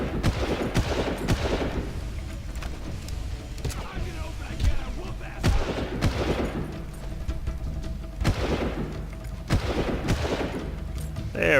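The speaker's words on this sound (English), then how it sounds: "This gun is pretty good if you take single shots." Gunfire in the Far Cry video game: a steady run of weapon shots, some single and some in quick strings, set over constant loud game noise, with a voice talking faintly underneath.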